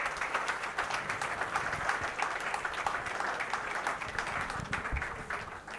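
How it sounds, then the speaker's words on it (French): An audience at a conference on culture and European unity applauds the invited guests with continuous, even clapping at moderate level, steady throughout with no speech on top. "Peut-être si vous voulez applaudir les invités avant cela."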